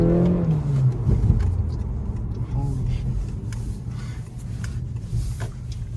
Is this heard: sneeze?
no